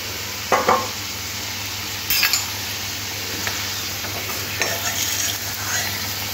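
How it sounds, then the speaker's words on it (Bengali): Potatoes frying in oil until reddish-golden for katla fish curry, with a loud constant sizzle close up and occasional scrapes and clinks of a spatula stirring in the pan. "আলুটা এরকম লাল করে ভেজে নিতে হবে"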